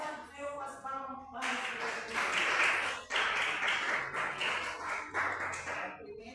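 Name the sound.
church congregation clapping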